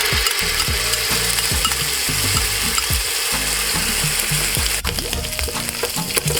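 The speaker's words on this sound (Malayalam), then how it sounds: "ഈ ബോട്ടി നമ്മൾ ഫ്രൈ ചെയ്തെടുക്കാനായിട്ട് ഞാൻ ഇതിനകത്ത് 3 ടേബിൾ സ്പൂണ് വെളിച്ചെണ്ണ എടുത്തിട്ടുണ്ട്. അതിലേക്ക് ഞാൻ 5 പച്ചമുളകും 2 ടേബിൾ സ്പൂണ് ജിഞ്ചർ ഗാർലിക് പേസ്റ്റും ചേർക്കുന്നുണ്ട്." Green chillies and ginger garlic paste fry in three tablespoons of coconut oil for boti fry, a loud steady sizzle with rhythmic scraping strokes of a spoon against the pan throughout.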